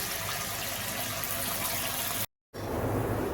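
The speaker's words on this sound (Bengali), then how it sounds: "এই গরম জলটা দিচ্ছি" Hot water poured into a katla fish head curry in a pan, a steady loud gushing, splashing stream that breaks off briefly and then resumes, with no talking.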